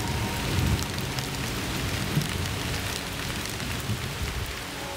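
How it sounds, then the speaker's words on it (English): Steady rainfall in Borneo patters densely on surfaces, a soft, even hiss of drops that carries on without a break and with no voices. "The rain trickles steadily"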